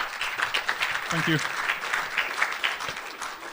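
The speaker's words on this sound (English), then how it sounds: "a round of applause for excellent presentation" Applause from a conference audience following a presentation, a sustained patter of many hands throughout, with a voice briefly speaking over it.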